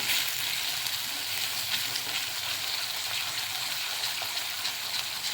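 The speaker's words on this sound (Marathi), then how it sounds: "टॅमॅटो हिरवी मिरची लसूण आणि जिरं फोडणीला दिलं ते मी चांगलं फ्राय करून घेतलं आहे" Tomato, green chili, garlic and cumin fry in a pan with a soft, steady sizzle that holds evenly throughout, fairly quiet and without talk.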